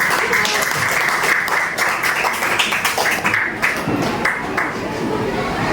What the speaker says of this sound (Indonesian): mari kita berikan tepuk tangan yang meriah untuk kedua tim